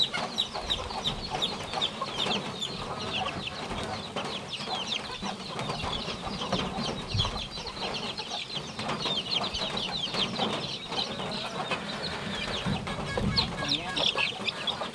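Small chicks and chickens at a poultry farm cluck and peep without a break, a dense, busy chatter of many birds heard close by for the whole stretch.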